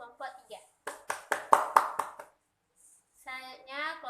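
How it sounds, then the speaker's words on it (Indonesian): A classroom group claps together for a presenting group, with about eight sharp, evenly spaced claps in a quick rhythm. Brief voices come before and after the clapping. "Beri tepuk tangan untuk kelompok 3."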